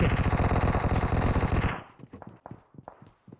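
Rapid automatic gunfire in the mobile battle royale game PUBG Mobile, a loud sustained burst of shots lasting under two seconds, followed by scattered softer thuds and footsteps.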